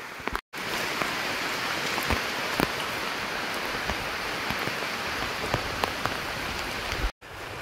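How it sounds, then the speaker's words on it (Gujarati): A heavy downpour pours down outdoors near a river, with a dense, steady hiss of rain drumming on surfaces and no voices, briefly cut by two short dropouts. "વરસાદ તમે જોઈ શકો છો, ધોધમાર આવે છે."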